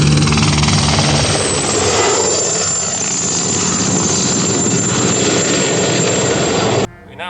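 A helicopter flies past, a loud steady rotor and engine roar that holds for several seconds and then cuts off abruptly.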